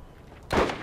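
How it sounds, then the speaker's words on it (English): A grenade goes off in the Borderlands shooter game, a single sharp close blast that cuts in midway and rolls off into a short decaying rumble. "Oh, grenade."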